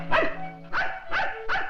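Dog barking on a 1950 film soundtrack: four sharp, close barks in an even rhythm over a faint steady hum, with no talk.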